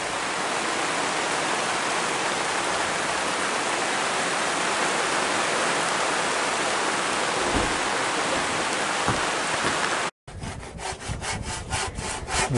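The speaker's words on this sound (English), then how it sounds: "there's a nice little breeze up here" Wind rushes steadily across a rooftop under construction, a broad, loud, unbroken hiss with a few soft knocks, cut off abruptly near the end before a rougher, fluttering gust resumes.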